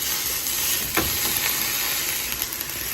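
Meat and onions for Iraqi maqluba frying in a pan, a steady close sizzle with a sharper burst of spatter and clatter about a third of the way in, no voices.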